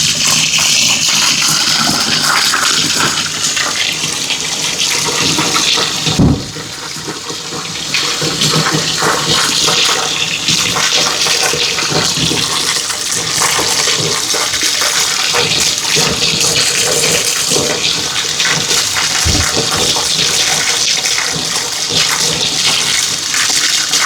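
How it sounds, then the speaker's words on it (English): Hot water runs steadily into a laundry sink with a greasy, lint-clogged drain, a continuous loud rushing splash throughout with two brief thumps partway through. "So I like to have the hot water running"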